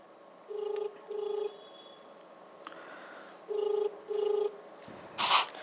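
Outgoing phone call ringback to a political candidate, two pairs of clear electronic ring tones separated by silence, moderately loud and close, ending in a brief burst of noise as the line connects.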